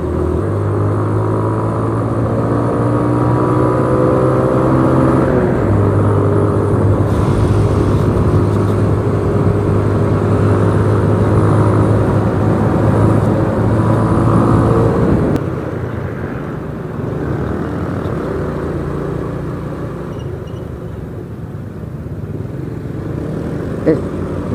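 Two small motorcycles, a Yamaha Vega and a Yamaha Mio Jet, race along a road on a Sunday, their engines droning loudly and steadily together with a sustained hum, then falling back to a lower rumble partway through.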